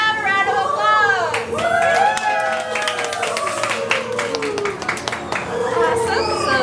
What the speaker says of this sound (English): Can I please have a round of applause?